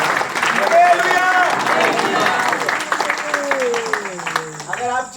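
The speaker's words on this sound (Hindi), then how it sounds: "आज उठा के ताली बजाएंगे सब।" A church congregation claps steadily during an energetic sermon, the clapping running under a loud, raised voice.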